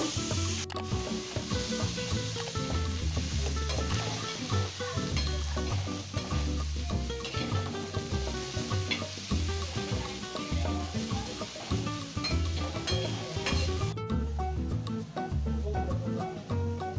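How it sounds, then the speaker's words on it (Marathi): Chopped onion sizzles and fries on a hot griddle pan while being turned, a continuous crackling hiss broken by repeated scraping stirs of a spatula against the metal. "कांदा लालसर होईपर्यंत आपण त्याला तव्यावर"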